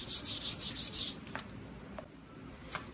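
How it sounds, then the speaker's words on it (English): Sandpaper rubs the end of a small wooden piece for a model horse cart, tapering it thinner: about a second of quick rasping strokes, then a few light, sparse scrapes, close and quiet, with no talking. "I'm sanding this end a little thinner than this end so it tapers down"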